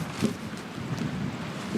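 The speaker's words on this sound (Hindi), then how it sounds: "एक्सट्रीम विंड हो रहा है अभी, एक्सट्रीम, पूरा विंड स्टॉर्म कह सकते हो।" Extreme windstorm at a campsite with no rain, strong gusts roaring and buffeting the microphone in a continuous broadband rush with a few louder bursts.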